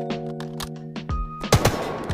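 Rapid bursts of gunfire in the mobile shooter Delta Force Mobile, loud close shots cutting in after a stretch of game-menu tones, with a quick flurry of cracks near the end.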